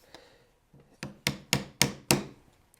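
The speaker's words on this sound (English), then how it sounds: "I'm going to switch the direction of my chisel here." A hand chisel cuts a groove in wood, with a handful of crisp woody strikes building in loudness, close and spaced about a quarter second apart.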